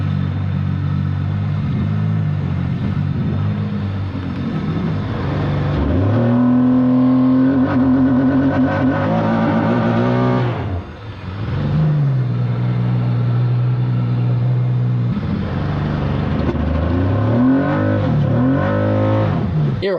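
A jet ski engine, a 155-horsepower craft with a paper-thin hull, idles with a close, uneven rumble that rises and falls in pitch several times, briefly dips almost to stalling, then picks back up.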